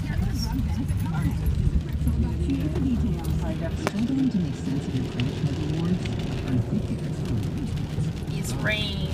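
Steady rain hisses throughout while a voice talks over it, with occasional passing traffic noise in the background.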